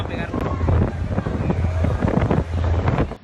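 Storm wind at sea roars and buffets loudly around a boat caught in strong waves, with a heavy, gusting rumble that swells and dips over a few seconds.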